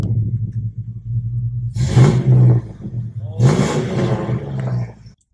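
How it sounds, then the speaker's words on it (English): A 2000 Nissan Frontier pickup's engine idles with a low rumble, then is revved hard twice, each rev rising into a loud roar before settling back to idle, heard up close. "Give us a rev."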